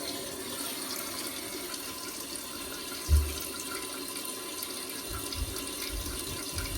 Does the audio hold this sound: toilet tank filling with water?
yes